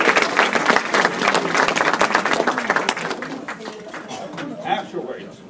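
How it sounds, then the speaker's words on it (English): A theatre audience at a stage show claps for volunteers: loud, dense applause at first that thins and fades toward the end, with scattered individual claps and some murmuring and voices mixed in. "Let's give them a big round of applause."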